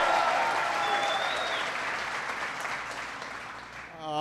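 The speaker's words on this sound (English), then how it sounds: "Give him a big round of applause." A crowd at a Toledo Jeep plant applauds the mayor, a dense, loud wave of clapping and cheering that fades slightly toward the end as a voice begins.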